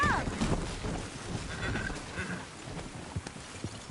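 Horse hooves clip-clop at a walking pace in a Red Dead Redemption 2 game scene, a steady uneven patter under wind and low background noise, with a brief neigh near the start.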